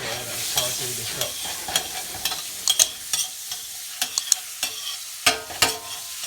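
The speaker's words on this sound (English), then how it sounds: "Add our garlic in. We're gonna add our ginger with the pimento. Alright, go ahead and saute this up." Garlic, ginger and pimento sauté in a pan with a steady sizzle, punctuated by repeated scraping stirs that come in quick irregular strokes close up.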